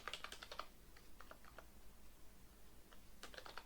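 Quiet keystrokes on a computer keyboard come in quick bursts with a short pause between them, close by and faint, with no speech.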